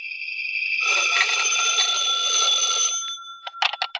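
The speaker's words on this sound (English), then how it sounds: "When I got home, the phone was ringing." An old-time radio telephone ringing: a long bright bell ring lasting about three seconds, followed by a few short clipped rings, clear and close, with no voices.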